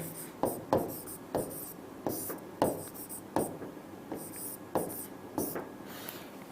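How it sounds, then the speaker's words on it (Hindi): Handwriting during an English grammar lesson, with pen or chalk strokes landing in short, regular taps and scratches, close and fairly quiet, with brief pauses between them. "चलो वो भी लिख देता हूं मैं।"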